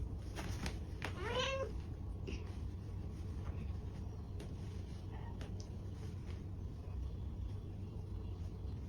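A pregnant stray cat gives one clear rising meow early on, close and fairly loud, followed by a few faint clicks and a steady low rumble in the background.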